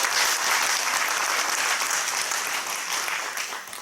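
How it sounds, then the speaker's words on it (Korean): Sustained audience applause fills a church thanksgiving service for an alumni association's new president, dense and even from start to finish before easing slightly at the end, with no voices over it. "우리 감사의 박수 한번 올리시죠."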